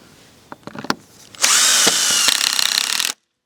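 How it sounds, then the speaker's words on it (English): A power drill drives the bottom screws into a horse fence rail bracket on a post, starting with a few taps and clicks, then one loud, steady whirring run of about two seconds that stops abruptly. "finish it off with the bottom screws"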